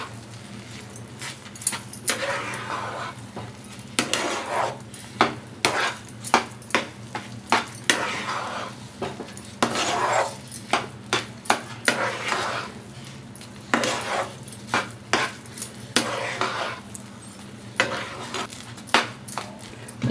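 Vangibath powder being stirred into khara bath in a pan, repeated scraping and clinking of a spoon against metal in an uneven rhythm over a steady low hum, close and fairly loud.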